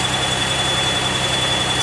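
A Pontiac Aztek idles nearby with an electrical short and a gas leak, giving a steady low engine rumble with a faint high whine, unbroken and alone.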